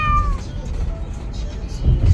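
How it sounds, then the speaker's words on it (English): A cat lets out one loud, drawn-out, eerie meow near the start, close to the listener, followed by quieter background rumble and soft movement noise. "he literally sounds like a horror movie cat"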